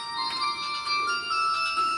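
A phone rings with a continuous electronic melody, steady and moderately loud, with no talking.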